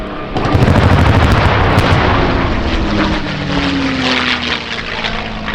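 P-51D Mustang warbird "Cincinnati Miss" roars past at an air show, its propeller engine loud and steady with a throbbing rasp that swells then eases slightly as it passes.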